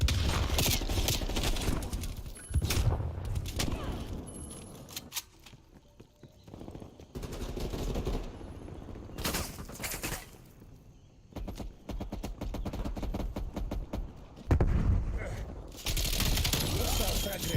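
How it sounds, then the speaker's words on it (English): Hostile sentry turret fire in a video game comes in loud rapid bursts of automatic gunfire that start and stop repeatedly over a dense background of game noise. "Hostile sentry turret active. Taking fire."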